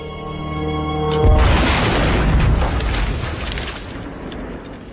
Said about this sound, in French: Vous avez entendu? Ouais, C'était une explosion?